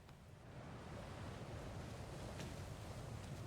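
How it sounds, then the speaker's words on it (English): Sea water and boat ambience in Final Fantasy XIV, a soft, steady wash of waves and breezy noise, faint and continuous with no distinct events. "I love boat sounds."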